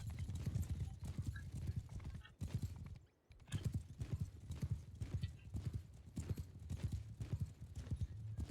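Horses galloping in Mount & Blade 2: Bannerlord, a dense steady drumming of many hooves close by, briefly cut off once, with occasional whinnies and faint voices mixed in.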